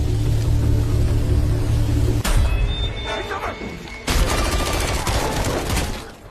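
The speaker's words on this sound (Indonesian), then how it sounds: "Melihat yang lain sedang sibuk menembaki musuh, Carla yang tidak ingin hanya ngejedok" Gunfire in a film fight scene erupts as rapid bursts of shots and booming impacts over a rumbling background, loud and dense, with a voice speaking in between.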